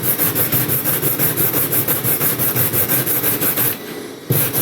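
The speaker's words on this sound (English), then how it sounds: "So I'm going to go through and I'm going to sand off all these little nubs from the build platform." Hand sanding removes small support nubs from a 3D-printed part, giving steady rhythmic rubbing strokes, close and fairly loud, that pause briefly near the end before resuming.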